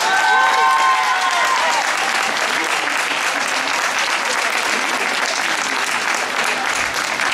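Audience at a regional championship award ceremony breaking into sustained, dense applause that fills the room at steady loudness for several seconds, with brief voices and a faint whistle-like tone near the start.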